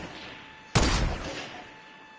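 One sharp, loud sniper rifle shot in the Fortnite video game, ringing out alone and fading over about a second.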